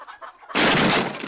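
A rooster clucks and squawks in a sudden loud, frantic burst as someone tries to catch it, preceded by a quieter, muffled stretch.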